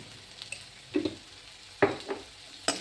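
Onion being sautéed in a pan with spices, heard as a few short stirring scrapes and soft sizzle bursts at close range against a quiet background.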